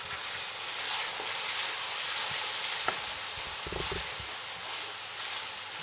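Ginger and garlic paste fry in a pan with a broad, steady sizzle, while a few soft scrapes and bumps from stirring come through near the middle.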